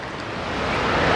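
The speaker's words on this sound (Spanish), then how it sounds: "Muchísima agua, mucha agua" Heavy, steady rushing water at a swimming spot with a diving place, a broad wash of noise that swells slightly louder over a moment, with no voices.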